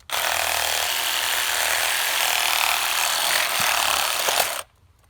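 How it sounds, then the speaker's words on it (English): A reciprocating saw cuts through a deer's main hip bone during field dressing, a loud continuous buzzing rasp lasting several seconds before stopping abruptly. "you can take your sawzall and you want to break this main hip bone here"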